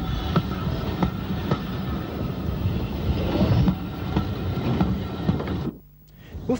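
A locomotive from the Tralee & Dingle line on an Irish narrow-gauge railway arriving from Drummond with a passenger carriage, heard as a continuous rumbling, clattering run with rhythmic knocks that cuts off abruptly near the end.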